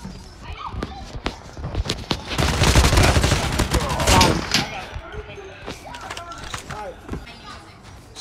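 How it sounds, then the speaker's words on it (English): Gunfire in the mobile shooter Call of Duty Mobile, with a dense burst of shots in the middle and scattered sharp shots before and after, mixed with game noise. "Shots fired?"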